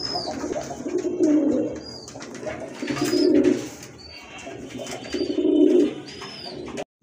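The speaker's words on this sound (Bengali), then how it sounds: "প্রথমে এক জোড়া কবুতর দেখতে পাচ্ছেন।" Racing pigeons coo in repeated low, throaty phrases, close by, with brief pauses between bursts and occasional higher chirps.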